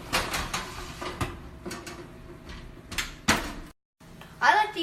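An oven door bumps shut on a baking tray of chicken wings in a kitchen, giving a few close knocks and clatters with a sharp thud near the end, while someone talks over it.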